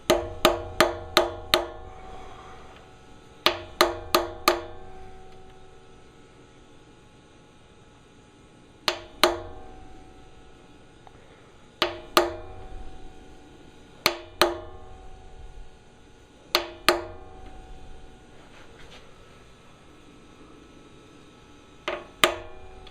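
A hammer taps a part down into a Vortec engine block in sharp, ringing metallic strikes, mostly in quick clusters of three to five with pauses between, close and clear against a quiet background.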